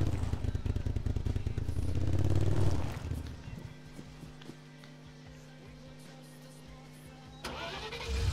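A UAZ off-road vehicle engine cranks and catches in the Arma military game, with a loud starter whir for the first few seconds before settling into a steady, quieter idle hum that swells slightly at the end.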